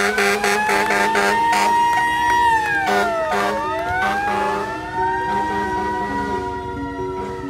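Police and fire emergency vehicle sirens wail loudly and close, several overlapping tones rising and falling together with blasts of air horn, holding throughout without speech.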